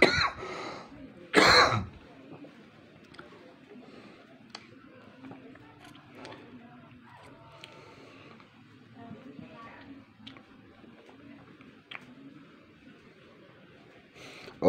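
A single sharp, loud cough bursts out near the start, followed by quieter shuffling and faint background sounds, with one more brief cough-like noise later.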